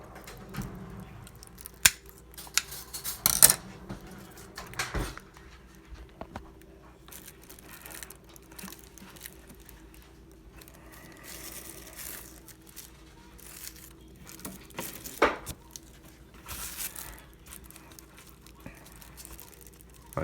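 Scissors snip unhealthy orchid roots during repotting, sharp close clicks coming in scattered bursts with quiet rustling between cuts.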